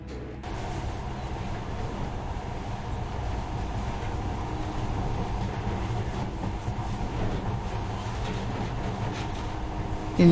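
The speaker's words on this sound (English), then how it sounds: "In the past, trains were ordinary things, but now, this monorail seems magic, doesn't it?" Steady, close rumble of a monorail train running in Metro Last Light, with a continuous low mechanical drone that holds evenly for the whole stretch and no voices.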